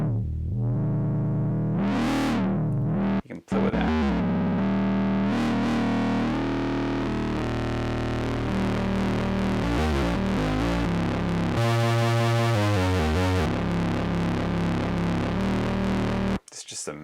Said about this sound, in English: they have a distortion before getting into the filter stage